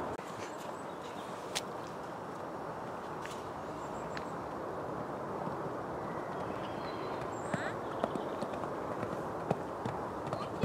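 A horse canters during an indoor dressage lesson, its hoofbeats a continuous rhythmic drumming on the arena footing, steady and fairly loud throughout with faint scattered background noises.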